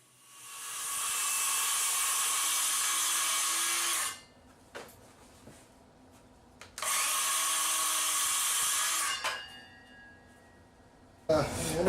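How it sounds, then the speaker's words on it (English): A circular saw running along a guide as it cuts a 12x12 plywood tabletop, a loud steady whine for about four seconds, a pause with clatter, then a second long cut ending abruptly. "I've got sort of a circular saw guide cutting here that I'm going to trim a 12x12 tabletop out of a chunk of plywood"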